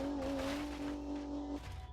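A tiny front-engine, rear-wheel-drive car with an inline-six drives in BeamNG.Drive, its engine holding a steady, buzzing drone that drops abruptly near the end.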